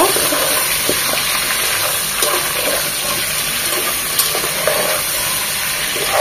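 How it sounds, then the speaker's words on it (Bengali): Beef with bone and fat fries in a generous amount of ghee in a pot for Peshawari-style meat, a loud, continuous close sizzle with a few faint stirring knocks and no voices. "এখন মাংসটাকেও এভাবে ভেজে নেব।"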